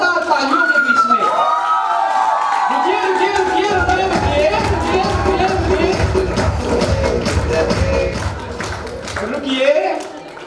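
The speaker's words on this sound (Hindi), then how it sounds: "जोरदार तालियों के बीच में" Enthusiastic clapping from an audience at a business success-story event in Surat, Gujarat, running as a loud continuous patter beneath a voice speaking over a microphone with musical tones, swelling briefly near the end.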